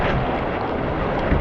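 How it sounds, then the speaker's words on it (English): Loud, steady wind buffets the microphone in a constant roar, with no voices, during a Flying Scot sailboat race. "It's pretty windy."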